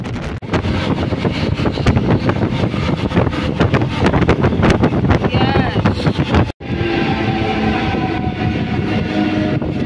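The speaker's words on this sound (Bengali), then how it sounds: "স্পিডে এই মুহূর্তে বেরিয়ে যাচ্ছে পাশ দিয়ে 20898 রাঁচি হাওড়া বন্দর" Ranchi–Howrah Vande Bharat Express, train 20898, rushing past at speed: a loud, continuous roar of wheels and rail clatter with rhythmic pulses, a brief drop near the end, then wind noise and rumble continuing.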